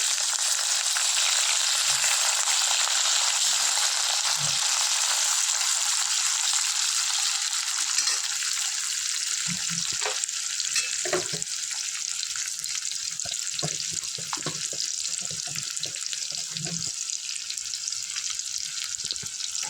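Onion and five-spice (panch phoron) sizzle steadily in a hot pan for okra curry, a loud continuous frying hiss with occasional soft stirring knocks and scrapes, no voices.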